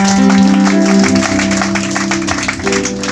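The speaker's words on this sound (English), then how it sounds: "People of God, give a clap offering to Jesus." A church congregation claps together over loud, sustained music, the steady clapping partly buried beneath held chords throughout.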